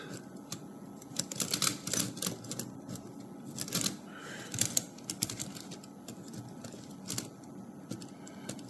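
Keys of a Remington portable typewriter pressed during key-top cleaning, giving scattered close clicks and clacks in irregular bursts over faint background noise.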